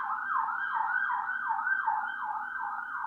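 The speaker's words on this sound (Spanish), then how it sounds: "No sé si se escuchó como la ambulancia sonando" An ambulance siren wails steadily in a fast, repeating up-and-down sweep, loud and continuous across the whole stretch with nothing else competing.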